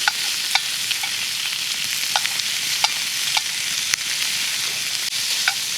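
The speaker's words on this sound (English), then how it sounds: "So just cook that around, stir it around a little bit." Bacon sizzles in a cast iron pan over a campfire, a loud, steady fry broken by regular scrapes and clicks of a utensil stirring it, close up with no talking.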